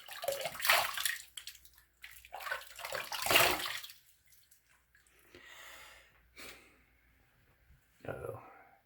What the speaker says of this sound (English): Do a little rinse off here.